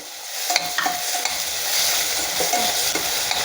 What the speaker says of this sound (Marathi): टोमॅटोमधला कच्चेपणा जाईपर्यंत टोमॅटो आपल्याला तेलामध्ये परतून घ्यायचा आहे